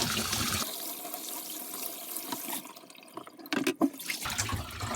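Fresh mackerel being rinsed of blood in a basin of water for salted fish: steady running and sloshing water close by, with a few sharper splashes toward the end and no voices.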